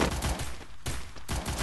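Bursts of gunfire from a mobile battle-royale shooter game, three loud, close shots in quick succession, each a sharp crack with a booming tail.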